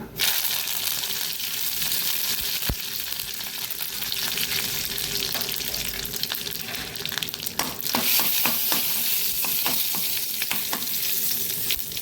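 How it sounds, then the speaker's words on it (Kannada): Mustard seeds and curry leaves fry in hot oil for a Karavali-style radish dish, giving a loud, steady sizzle scattered with sharp popping crackles that grow busier in the second half. "ಎಣ್ಣೆ ಹಾಕ್ಕೊಂಡು ಅದಕ್ಕೆ 1 ಚಮಚದಷ್ಟು ಸಾಸಿವೆ ಒಂದು ಸಿಡಿಯುವಾಗ ಓಕೆ ಕರಿಬೇವಿನ ಸೊಪ್ಪನ್ನು"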